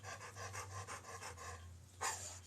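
A chocolate Labrador panting close by, rapid rhythmic huffs of breath repeating steadily, then a brief louder snort-like exhale near the end, over a low hum in a quiet room.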